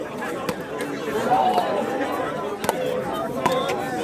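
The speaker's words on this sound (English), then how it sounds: "We can definitely hear the anticipation by the crowd" A squash match crowd murmurs in anticipation during a rally, a steady low babble of voices with a few sharp ball or racket knocks cutting through.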